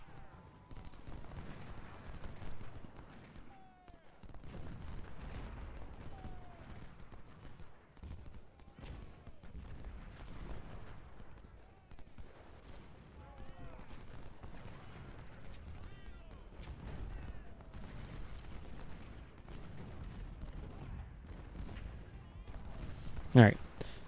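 Repeated cannon and musket fire rolls through a Civil War battle in Ultimate General: Civil War, dull booms and crackling volleys recurring steadily at moderate distance beneath a running stream of talk.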